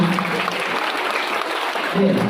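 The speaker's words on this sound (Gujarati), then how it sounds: "બીજી તાળીઓ એના માટે પાડજો." Students at a Teacher's Day celebration clapping for a classmate, a dense, steady burst of applause from a group in a room, loud and continuous throughout.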